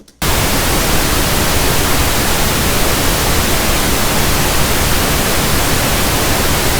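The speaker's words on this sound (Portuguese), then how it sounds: "vocês vão ouvir agora o ruído rosa" Pink noise played from audio software starts abruptly and holds as a loud, steady, broadband hiss with no talk over it.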